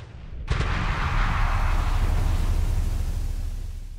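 Ship weapons open fire in a Halo space battle between UNSC and Flood forces, a single sharp onset swelling into a loud, sustained rushing roar that slowly fades.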